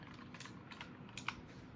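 Quiet, sparse typing on a computer keyboard, a few soft key taps close by with no voices.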